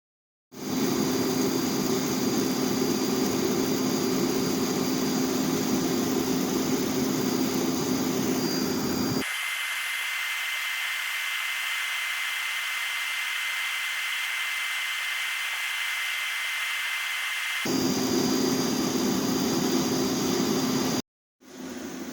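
A Heat Star portable propane heater roars with a loud, steady, broadband rush and a faint tonal whine. Midway the tone shifts to a softer, thinner hiss before the fuller roar resumes, with no voices.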